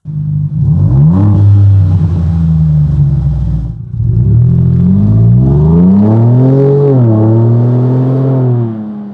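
A Ford Bronco engine revs through a deep, throaty AWE aftermarket exhaust, rising and falling in pitch with a brief drop near the middle, loud and close.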